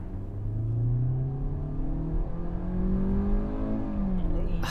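A Hyundai Verna with a 1.5-litre 115 hp petrol engine and CVT accelerates, its engine note rising in smooth drawn-out sweeps over a low rumble, close and steady.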